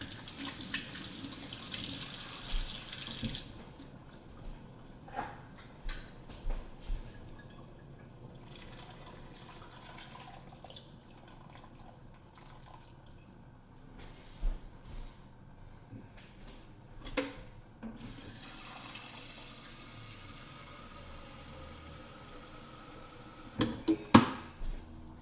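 A kitchen tap runs water into a pot for boiling chicken, a soft steady stream with intermittent splashes, drips and clunks of the pot, fairly quiet and close.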